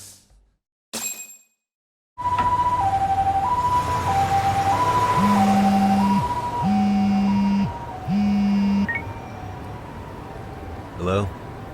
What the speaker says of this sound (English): Can you get an ambulance over to your bar right away?